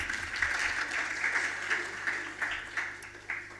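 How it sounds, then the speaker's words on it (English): An audience at an education conference panel on AI claps in a moderate round of applause, a fairly soft, even patter of hands with a few sharper claps near the end. "Let's give him a round of applause."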